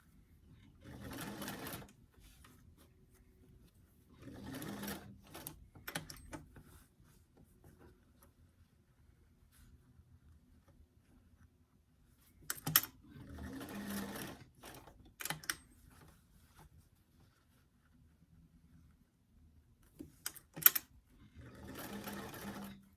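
A sewing machine stitches a sleeve into a doll dress in several separate bursts, each a few seconds long with quiet pauses between, the motor whirring close and clear with no talking.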